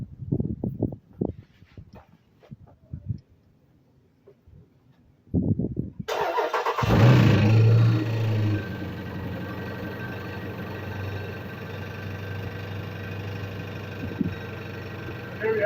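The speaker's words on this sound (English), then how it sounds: "Here we are, the motor does run." A 2014 Jeep SRT8 engine, shown with a fault during diagnosis, cranks and fires after a few quiet clicks and handling noises, then settles into a steady, close idle with a brief rev at startup.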